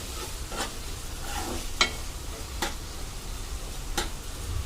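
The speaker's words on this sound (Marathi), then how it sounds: "कांदा अगदी सोनेरी रंग येईपर्यंत आपल्याला परतायचा आहे." Onions sautéing in a pan while being cooked down to golden for chicken keema, a soft steady sizzle broken by a few sharp scraping clicks of stirring, close by and quiet with no voices.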